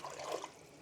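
Filtered water pours into a pot of saucy ground beef during home cooking, a faint, short liquid trickle lasting under a second.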